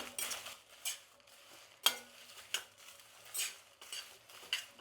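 Kashmiri and Guntur dried chillies being stirred in a pan, with a series of scraping, clinking spoon strokes against the metal at an uneven rhythm, close and moderately quiet, with no talking.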